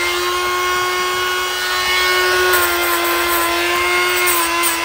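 Tools carving into a large yew tree, heard as a loud, steady, high-pitched motor whine with a faint rough grinding texture, continuous and close throughout.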